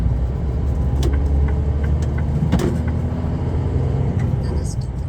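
Semi truck on a delivery run, pulling up to a parking lot built for cars: a steady, loud engine and road rumble runs throughout, with a few faint clicks and rattles in the cab.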